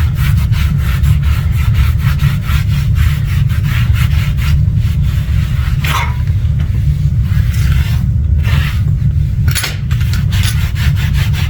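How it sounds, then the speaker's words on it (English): A wet rag scrubs rust off around a toilet's base during a wax ring replacement, making a loud, steady, close rubbing that carries on without a break and has no talk over it. "Get a wet rag and start wiping it down, get all that rust off."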